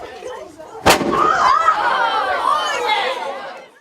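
Historic reenactors at a reconstructed fort fire a musket or cannon: one sharp, loud report booms out, then crowd chatter and voices follow, with the blast echoing briefly in the open air.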